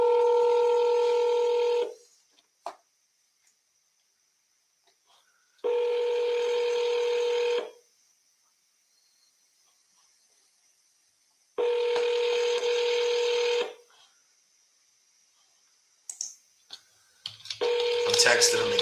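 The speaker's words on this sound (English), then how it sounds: "let me know if you can hear this dial and these rings" Telephone call audio with several long bursts of dialing and ringback tones separated by silences, ending with short beeps and a recorded phone message. No one talks in the open.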